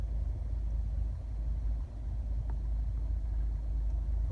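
A 2008 Honda Accord 2.0 i-VTEC ES GT saloon idling with its 2.0-litre petrol engine, a steady low rumble heard from inside the car, even and unbroken, with no voices.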